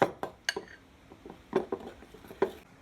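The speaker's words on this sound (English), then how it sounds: "whisking until all those lumps have gone" Pancake batter being whisked in a bowl, heard as a few quiet, irregular clinks and taps of the whisk against the bowl with soft gaps between them, nearby and faint, with no voices.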